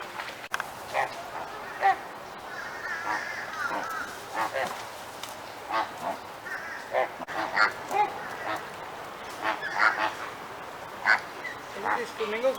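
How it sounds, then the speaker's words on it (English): A flock of flamingos gives repeated honking, goose-like calls, some near and some farther off, in a busy irregular chorus over faint background murmur. "Are these flamingos making a noise?"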